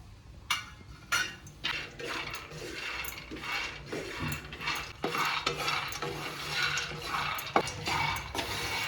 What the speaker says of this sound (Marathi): तर सगळ्यात आधी शेंगदाणे भाजून घेते.